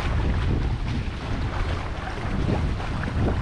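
Strong wind roars steadily over open water on the Intracoastal Waterway at the end of a long Hobie kayak trip, a loud, constant gusting rush with water sounds beneath and no speech.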